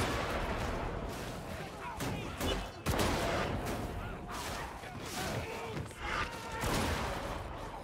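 Sniper gunfire in a shooter video game, a rapid series of sharp, loud shots and blasts cracking through a dense, continuous battle din of overlapping fire.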